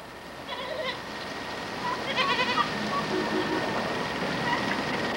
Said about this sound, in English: I think the goat's scared of Claudine.